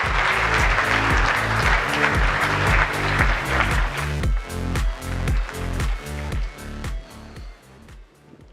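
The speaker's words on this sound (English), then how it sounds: "Please give a round of applause for Carlo and Flexi." Audience applause for startup presenters at a venture pitch competition grand final, a dense burst of clapping that thins out after a few seconds, with a steady, rhythmic music beat running underneath throughout.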